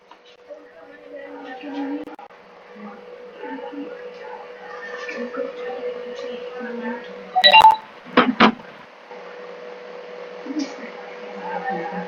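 A few short, bright telephone dialing beeps cut in briefly between people talking in Indonesian, with quiet background murmur around them.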